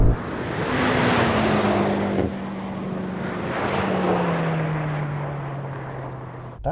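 A BMW M5 drag race launch, G90, F90 and F10 models, sends a loud engine roar at the start that sweeps down in pitch as the car pulls away, with a steady rushing noise throughout.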